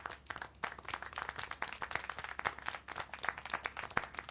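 Scattered applause and clapping from a small crowd inside the video game Syberia: The World Before, with irregular, fairly quiet claps running steadily throughout.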